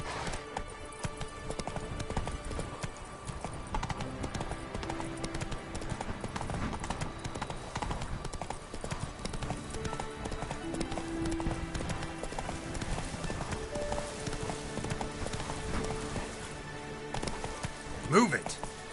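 Horse galloping in the video game The Witcher 3, fast continuous clip-clop of hooves with a rider's voice over it and a steady ambient bed beneath.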